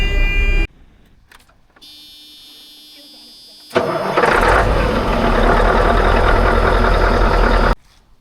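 Two farm machinery engines crank and fire up one after another, the second catching and settling into a loud, rough diesel run close by, with a pause and voices between starts.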